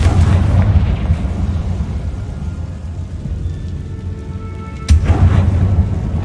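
A Confringo explosion spell goes off in a video game as a continuous low, rumbling roar, with a sudden loud blast near the end; no one speaks.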